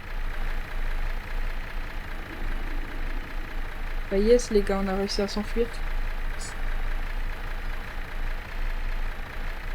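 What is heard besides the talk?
vehicle engine running in video game From the Fog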